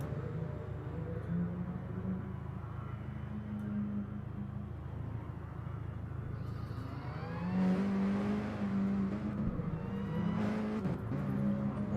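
Mini Cooper race cars heading out on track at Brands Hatch, engines humming at a distance, then a louder car revving and passing closer midway through.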